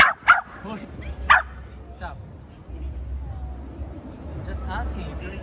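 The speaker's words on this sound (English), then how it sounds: "You don't have to bark." A dog gives a few sharp, yipping barks close by, bunched near the start, then goes quieter with whimpery sounds. A person speaks briefly between the barks.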